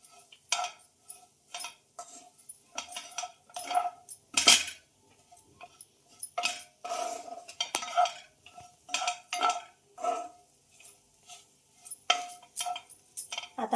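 A spoon stirs kachori masala filling in a pan with repeated rhythmic metallic scrapes and clinks, some louder knocks among them, close and without talk.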